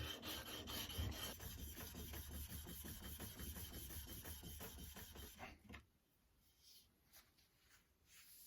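The back of a Narex chisel is ground flat on an abrasive surface, making a close, steady rhythmic rasping of quick back-and-forth strokes for several seconds before it stops and fades to quieter faint scraping.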